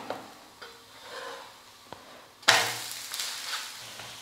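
A corn flour dosa with onion tempering sizzles on a hot pan right after it is flipped, with a sharp burst of frying hiss at the turn followed by a softer ongoing sizzle and light scraping, close up and without talk.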